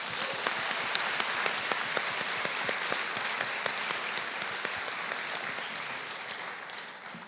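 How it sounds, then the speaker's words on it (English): A sustained round of applause from an audience at a university graduation ceremony for professors, dense and steady clapping that holds for several seconds before tapering slightly at the end, with no talk over it. "I would like to have a round of applause for all of these amazing people."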